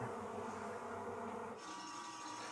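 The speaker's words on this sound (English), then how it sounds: "This trap is being heavily scouted by bees." Honey bees buzz around a swarm trap, a dense, continuous drone of many wings, faint and close, with no voices.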